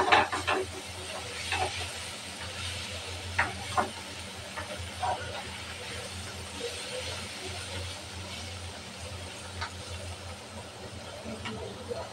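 Bitter gourd fry being stirred gently in a pan on the stove, with a steady sizzling hiss and a few soft scraping clicks of the spatula, close and fairly quiet throughout.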